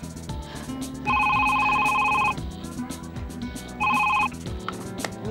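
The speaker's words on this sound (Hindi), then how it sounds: "अभी फोन आ गया।" A telephone rings indoors in two bursts, a long electronic trill and then a shorter one, loud and clear over quiet room sound and a drama's background music.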